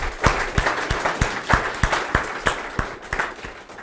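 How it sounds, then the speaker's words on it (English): A room full of people applauds event organizers at a tech talk, with a steady run of fairly close, rhythmic claps lasting several seconds and no talking over it. "give a big round of applause for Brian, John, and Dennis for putting it together"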